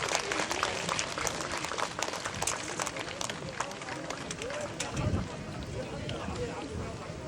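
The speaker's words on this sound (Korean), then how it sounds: "큰 박수 쳐주시기 바랍니다." Applause rises from attendees at the unveiling of a Buddhist stupa and memorial stele at a temple, a steady wash of clapping mixed with crowd bustle, fairly distant and continuous throughout.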